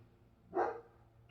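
A dog gives one short, full bark, fairly close and loud, against a quiet indoor room hum.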